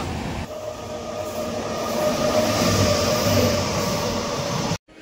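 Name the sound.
Howrah–Barbil Jan Shatabdi Express train passing station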